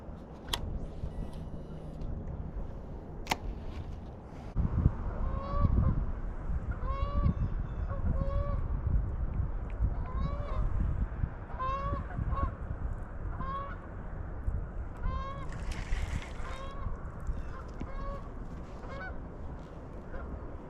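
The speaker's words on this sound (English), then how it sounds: "A lot of geese." A flock of geese honks repeatedly along a creek in spring, calls coming in a loose, steady series at moderate distance over a low outdoor rumble, with a couple of sharp clicks near the start.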